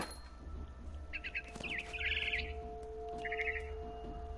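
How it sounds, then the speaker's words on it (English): A barn swallow in the video game What Remains of Edith Finch gives short bursts of bright chirps and twittering in quick trills over a faint steady hum, with a few soft clicks between calls. "It was a barn swallow going back to her nest."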